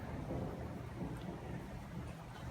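Rain and thunder outside during a stormy evening, a steady dense hiss of rainfall with a low rumbling roll underneath, fairly faint and distant, with no voices.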